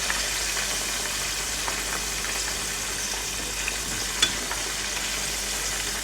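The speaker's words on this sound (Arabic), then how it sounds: "رح نقلي" Broasted chicken pieces frying in hot oil over a gas flame give a steady, dense, close sizzle that holds evenly throughout, with no talking.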